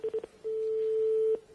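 A telephone call is placed to the Nemours gendarmerie: a few short beeps are followed by one long, clear, sustained tone that stops abruptly. The line is otherwise quiet, with no talking.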